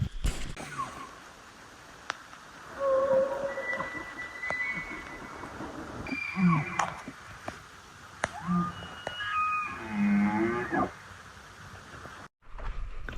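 Elk bugle at night along the Missouri River, several long, rising, whistling calls carrying from a distance with grunting lower tones, spaced out over a quiet, faintly noisy background.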